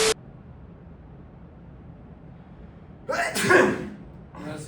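A man sneezes several times: one sharp burst at the start, then after a quiet pause a louder drawn-out sneeze and a shorter one, close to the listener with no other sound around them.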